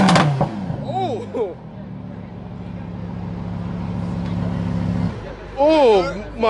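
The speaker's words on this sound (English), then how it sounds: "I think he opened the baffles of his exhaust" A modified car at a Cars and Coffee meet revs hard through an exhaust with its baffles opened, giving a loud, sustained drone that holds for several seconds before dropping off. Brief bursts of nearby talk come before and after the revving.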